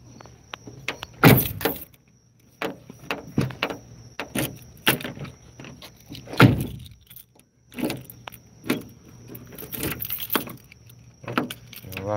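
A key rattles and clicks in the lock of a new door on a converted bus, sharp metallic jangles and latch clunks in a close, quiet space with pauses between.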